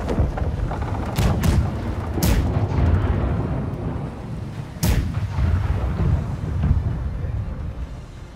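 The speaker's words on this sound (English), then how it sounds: "Right side cannons!" Ship cannons fire in the naval video game Blackwake. Several deep, heavy booms go off in irregular succession, two close together, then another and a later one, over a rumbling background.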